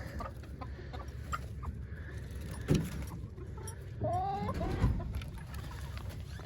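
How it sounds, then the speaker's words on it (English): Backyard chickens cluck as their coop door is opened, scattered soft calls with a couple of louder squawks near the middle over a constant low rumble of background noise. "You hear them chickens?"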